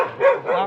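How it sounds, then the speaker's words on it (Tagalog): A dog barks at passersby on a street, two quick close barks in under a second, loud and alone. "Ayan, kontra sa magnanakaw, pati kami tinatahol."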